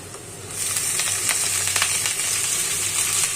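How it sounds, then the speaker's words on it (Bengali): Three kinds of leafy greens, mustard stalks and bathua among them, frying in a pan: a loud, steady sizzle that jumps up after a brief quieter start and keeps hissing evenly, with no one talking. "তিন ধরনের শাক মিলিয়ে শাকটা ভাজি করতেছি"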